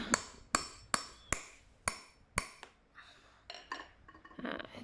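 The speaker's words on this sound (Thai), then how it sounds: "จากนั้นก็ทำการตอกนะคะ" Sharp metallic hammer blows punching holes in a woven basket strike in a steady series, six loud evenly spaced hits followed by several lighter, quicker taps, close up and without talk.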